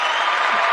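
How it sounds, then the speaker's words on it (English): A short, dense burst of crowd applause for a discussion panel, steady and fairly loud across under a second. "give yourselves a round of applause"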